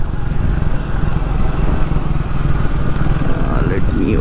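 Triumph Speed 400 motorcycle engine pulling at low speed around 25–30 km/h: steady low rumbling engine under a man's continuous speech, with some wind noise.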